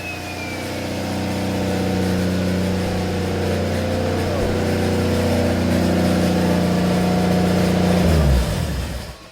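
A turbocharged Nissan RB25DET car engine revs hard and steadily for several seconds, loud and close, its pitch climbing before dropping off sharply at the end.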